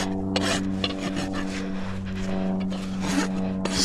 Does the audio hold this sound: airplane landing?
no